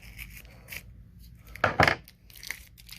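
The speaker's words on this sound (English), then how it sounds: "we can probably just kind of cut that off real quick" Plastic packaging around an AEW Unrivaled Cody action figure's waist being cut away, a few quiet snips and rustles before one sharp louder cutting crunch near the middle, close and without speech.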